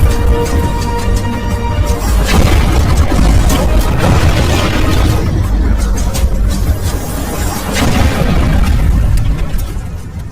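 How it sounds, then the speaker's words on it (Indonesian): Film landmine explosions go off one after another in a minefield, loud rumbling booms and bursts that blend into a continuous, dense roar with bangs rising and falling throughout. "Ledakan demi ledakan terdengar di sekitar mereka"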